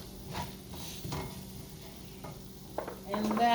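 Curry goat cooks in a pot with a quiet, steady simmering sizzle and soft, irregular stirring scrapes, a little louder near the end.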